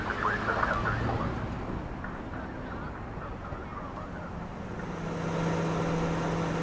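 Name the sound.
car sounds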